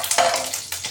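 Garlic and ginger stirred in hot ghee with cinnamon sticks and cloves, a close, continuous sizzle with a couple of soft spoon scrapes over about a second.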